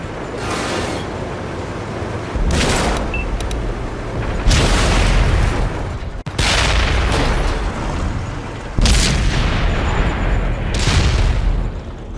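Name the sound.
tank cannon firing in video game World of Tanks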